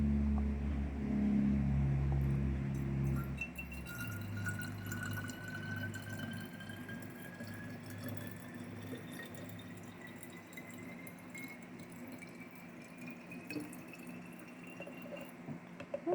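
Water is poured into a plastic spray bottle for a homemade cleaner, a faint steady trickling with a pitch that climbs gradually as the bottle fills, after a brief louder low rumble at the start.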